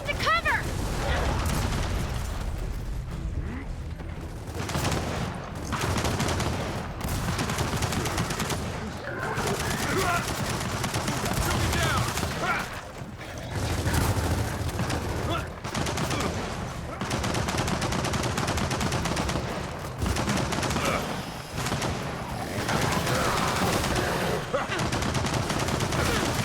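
Turret gunfire in the video game Gears of War 4, rattling in dense bursts through the scene, loud and close, with talk over it.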